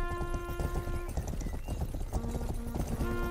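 Galloping hooves clop in a fast rhythm with a horse neighing in the Rustler video game, loud and close, with little else over it.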